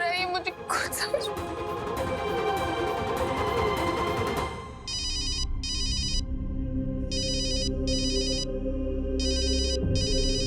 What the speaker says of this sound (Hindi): माँ का फोन।